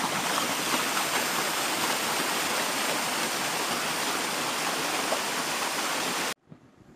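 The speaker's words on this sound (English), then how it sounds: "The path here appears to be a bit of a stream." Continuous rushing water from a stream flowing over a hiking path, a dense broadband wash nearby that cuts off abruptly near the end, followed by a faint knock.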